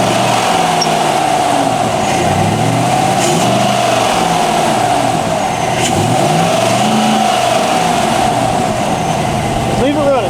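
A Chevy Silverado engine with a North American Performance cold air intake runs steadily and loudly, its rumbling drone rising and falling in small revs throughout, close up with no voices.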